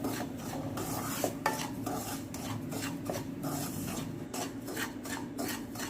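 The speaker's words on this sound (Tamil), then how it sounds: "ரவை வந்து மிதமான தீயிலே வச்சு இதை வந்து கலர் மாறாமல் லேசாக ஒரு 2 நிமிஷம் வறுத்தா போதும்." Dry semolina (rava) being stirred and roasted in a pan over a medium flame, a steady close-up rasping scrape of a spoon through the grains with faint clinks against the metal, continuous and without talk.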